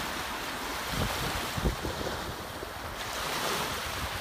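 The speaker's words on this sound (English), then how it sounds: "the water is still a little bit breezy, and the waves are a little bit not too strong" Ocean waves wash onto a beach under breezy wind, producing a steady, close roar of surf with gusty wind rumble on the microphone and no voices.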